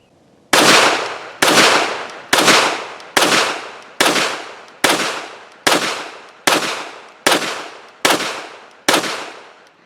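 A Kel-Tec PMR-30 .22 Magnum pistol fires about eleven loud, sharp shots in a steady rhythm, each crack followed by a short ringing decay, close to the microphone.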